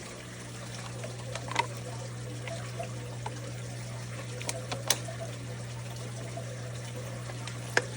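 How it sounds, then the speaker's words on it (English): Water trickles and pours steadily onto old potting soil for indoor potatoes, a soft continuous flow over a steady background hum, with a few small splashes and clicks. "Let's add a little water."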